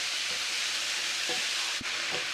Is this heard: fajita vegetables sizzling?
yes